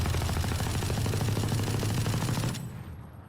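LMG firing through a wall in Valorant, a rapid continuous stream of shots for about two and a half seconds that then stops and trails off into a short fading echo, with no talk.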